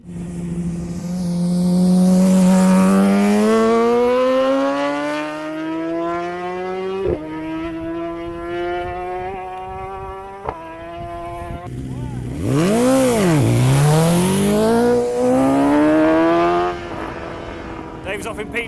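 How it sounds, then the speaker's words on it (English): BMW S1000RR superbike racing at the start of a Baja road race in Mexico, a loud close engine screaming up through the gears with sharp shift breaks, then a machine roaring past, steady and intense throughout. "Motorbike racing in Baja is go!"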